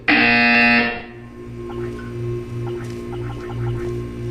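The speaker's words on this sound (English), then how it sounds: "You will hear a buzzer." A loud electronic buzzer from the video game Portal blares for about a second, then cuts off, leaving a softer pulsing electronic tone in the background.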